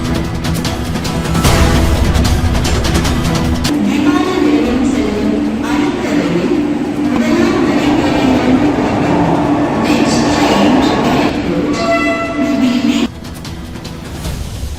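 A train pulls into a station platform with a loud, sustained rumble and rolling wheel noise lasting most of the span, then cuts off abruptly near the end.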